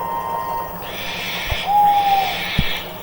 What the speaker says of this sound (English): It was only an owl, but Percy didn't realise this.